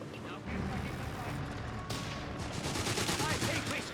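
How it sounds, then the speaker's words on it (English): A Flak 36 anti-aircraft gun fires in Company of Heroes 3, a rapid string of sharp, repeated cracks that turns into a dense, loud burst of fire. A commentator talks over the gunfire. "Flak 36 just shooting at something."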